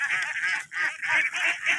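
Ducks on a farm give a run of loud, close, nasal honking quacks in quick repeated bursts, with no talk over them.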